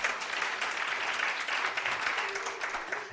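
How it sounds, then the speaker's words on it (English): Audience applause at an energy-sector expo in Kenya, a steady dense wash of clapping that holds for the full three seconds at moderate loudness. "Can we give her a clap?"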